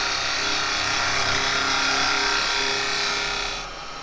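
A traditional woodturning tool cuts a tenon into spinning wood on a lathe, a loud, continuous rushing scrape with a steady motor hum beneath, close up and unbroken until it eases near the end.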